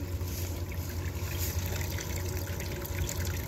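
Water flushing down through a portable recovery system set up at the Snake River in Idaho, a steady broadband wash and trickle with low rumble that holds at an even level throughout, with no voices.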